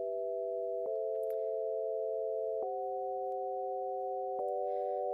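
Sine wave synthesizer in Ableton Live 12 holds steady, smooth tones stacked as a chord, retriggered three times with soft clicks at each change, clear and alone.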